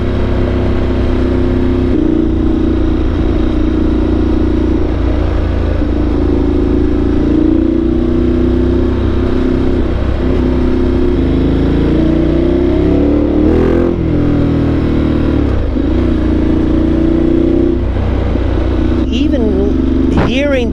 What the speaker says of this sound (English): Hearing that idle on this bike is just so much more fun.